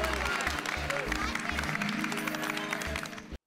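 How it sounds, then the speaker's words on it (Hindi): Crowd applause during an Independence Day flag-hoisting gathering in a housing society, steady and fairly loud for about three seconds with a pulsing low rumble beneath, then cutting off abruptly. "तो एक बार जोरदार तालियां अब्दुल भाई के लिए"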